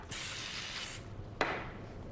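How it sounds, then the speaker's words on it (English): A soft, close hiss of cooking spray into a baking pan runs for about a second, then a second short burst follows after a brief pause. "Give it a spray."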